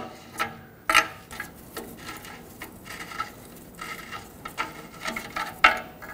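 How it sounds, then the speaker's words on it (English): Wrench turning a downstream oxygen sensor out of the exhaust on a 2011-2016 Ford F-350 with a 6.2L V8, giving scattered ratcheting clicks and metallic ticks, with a couple of sharper clacks, close and fairly quiet. "And now you can just unthread it."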